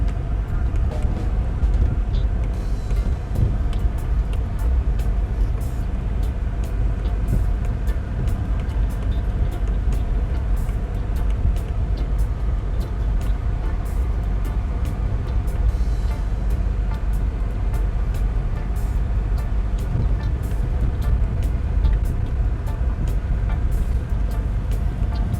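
A vehicle rolling over a bumpy road through Vineyard district in St. Elizabeth, Jamaica, with a continuous loud engine and road rumble and frequent short rattles and jolts throughout.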